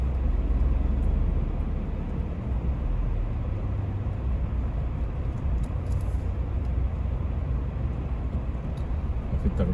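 Dense, steady road traffic rumbles loudly on a busy route toward a motorway in Friday congestion, a continuous low engine and tyre roar with no clear breaks and no talk.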